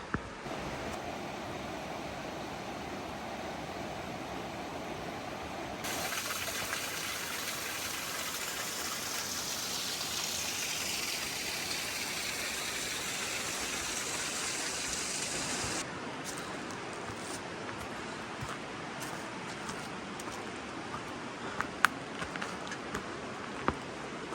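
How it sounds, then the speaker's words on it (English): A waterfall below a steep stretch of the Appalachian Trail gives a steady, broad rushing roar that runs throughout and swells louder through the middle, with no voices. "There's a waterfall down there."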